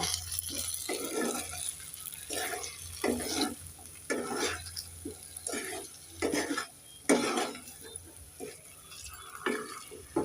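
Tomato and salt being stirred into a brinjal and potato curry, a spoon scraping and clinking against the pan in repeated bursts over a low steady simmer.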